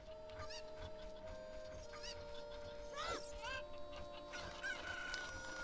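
Chickens in Kakariko village in the game Zelda: Ocarina of Time, several bright clucks and squawks over a soft steady background tone, faint and quick in succession.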